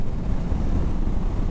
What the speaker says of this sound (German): Ich glaube, ihr hörtet, dass es windig ist.